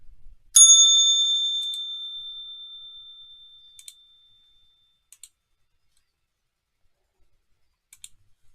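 A single bright bell strike rings out and decays slowly over a few seconds, followed by scattered faint clicks, a stock market opening bell.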